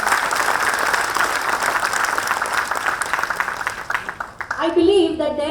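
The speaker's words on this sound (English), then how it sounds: "Huge round of applause." A round of applause from the audience at a public consultation event on India's draft National Education Policy 2019, steady crowd clapping that fades out and gives way to someone speaking.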